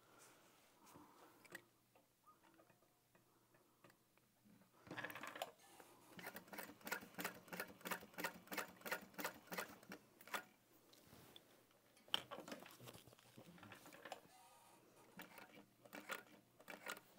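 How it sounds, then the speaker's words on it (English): A sewing machine stitches a tote bag in rapid, rhythmic bursts of ticking needle strokes, close and fairly quiet, with short pauses between runs. "And then I'm going to stitch that in place."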